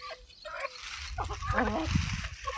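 Free-range country chickens cluck and murmur close by in the morning, eating household kitchen scraps, with soft scattered calls over a busy outdoor background.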